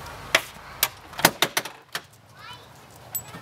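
A command vehicle's door or compartment being opened, giving a short run of sharp clicks, latch knocks and rattles close by, followed by a faint sliding scrape.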